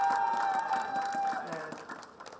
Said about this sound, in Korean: 김종현 위원장님 박수 한번 크게 보내주세요.